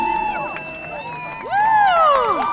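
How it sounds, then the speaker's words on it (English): An audience at Genet Kebede's 30th anniversary fashion show cheers for the designer, with high sweeping whoops and ululating calls that swell louder in the second half over a soft crowd murmur. "A big applause to her, please."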